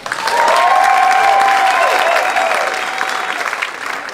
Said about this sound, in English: Clap your hands if you've been to a comedy show before.